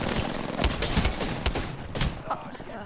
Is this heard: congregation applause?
no